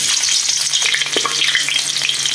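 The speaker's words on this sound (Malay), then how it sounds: "Tumis bawang." Onions sizzle steadily in a hot pan, a bright continuous crackle with a faint scrape of stirring.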